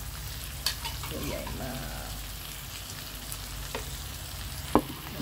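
Shrimp, cleaned and split, stir-fried in a pan for Thai holy-basil kaprao, sizzling steadily close by with a few sharp scrapes and clatters of the spatula; a voice speaks briefly.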